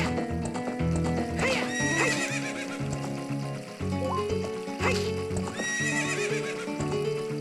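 A horse in the video game Zelda: Ocarina of Time 3D neighs loudly twice in quick whinnying bursts over the game's background music, with hoof clip-clops mixed in.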